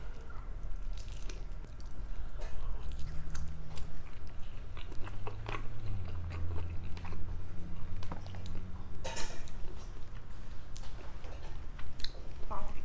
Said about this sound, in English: Wow, yeah, that was a good bite.